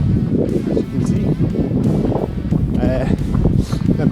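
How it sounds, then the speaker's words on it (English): Loud gusting wind buffets the microphone in rumbling bursts on a coastal trail run, with people talking underneath. "So it's super windy today,"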